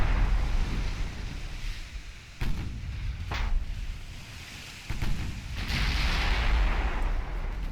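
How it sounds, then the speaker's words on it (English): 7-inch naval guns fire aboard the warship Hercules in the Ultimate Admiral Dreadnoughts naval battle game: a few sharp booming shots stand out over a steady wash of sea and wind, with no voices. "7-inch guns getting involved though"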